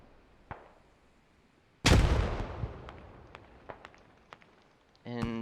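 Grenade blasts in the tactical shooter Squad: one sudden loud boom that rumbles and decays, followed by scattered distant pops and cracks of gunfire, with a softer thump early on.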